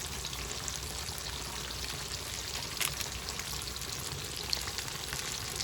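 Quail seasoned with paprika, salt, turmeric and khmeli-suneli fries in a kazan over medium heat on a campfire, giving a steady, dense sizzle with a few soft pops, close and even throughout.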